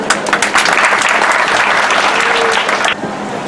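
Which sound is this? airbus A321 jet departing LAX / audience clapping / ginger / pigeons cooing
audience clapping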